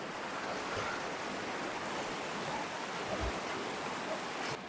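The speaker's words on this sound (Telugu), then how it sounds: "ఈ వాటర్ చూడండి ఎలా వెళ్తుందో. చాలా స్పీడ్గా" Fast, forceful river water rushes through a deep valley along the Godavari, a steady broadband roar with no pauses, heard at moderate distance and unchanging across the whole stretch.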